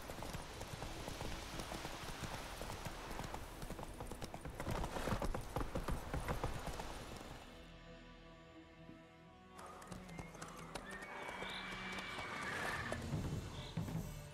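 Hooves clip-clop steadily as the horse Roach trots in the video game The Witcher 3, with a whinny and game ambience over a busy mix, dipping briefly midway before the hoofbeats return.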